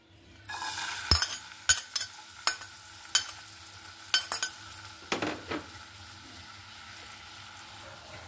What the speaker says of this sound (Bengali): এখানে দিয়ে দিচ্ছি তেল, এখানে দিয়ে দিচ্ছি পেঁয়াজ কুচি,